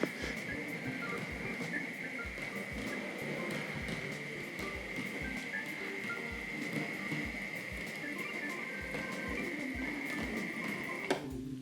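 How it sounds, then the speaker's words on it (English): A Tri-ang model railway layout runs quietly with a clipper controller, a faint regular clunking pulse under a steady hum, ending in a sharper clunk as the controller drops back. "you can hear that clipper controller dropping onto the 0"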